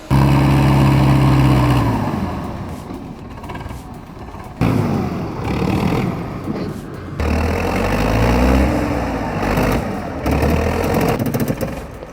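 A loud, close tractor engine labors and revs in surges while hauling a log trailer, rising and dropping in pitch with brief dips between bursts.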